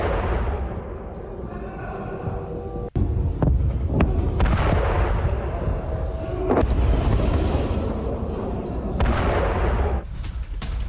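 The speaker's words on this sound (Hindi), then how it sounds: "ईरान ने बैलिस्टिक मिसाइलों से हमला किया" Loud, dense booming and rumbling from Iranian ballistic missile strikes on Tel Aviv in war news footage, with sharp cracks and sustained roaring blasts throughout and no speech.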